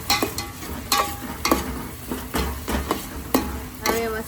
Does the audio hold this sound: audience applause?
no